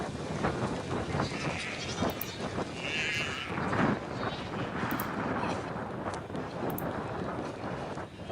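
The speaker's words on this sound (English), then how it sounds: "as you see the sheep and the goats" Sheep and goats in the video game Nomad Empire bleat now and then over a steady, windy outdoor ambience that fills the whole stretch.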